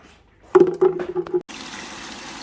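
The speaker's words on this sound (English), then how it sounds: "we just put some water in there with the inhibitor" Water mixed with inhibitor is poured into underfloor heating pipe loops, giving a short burst of gurgling, glugging fill for about a second, then a softer steady rush of flowing water.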